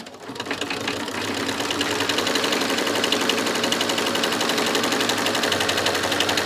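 An embroidery sewing machine stitches in the hoop, tacking a zipper down on a bag, giving a steady, rapid, loud mechanical chatter of needle strokes that runs continuously, close up and alone.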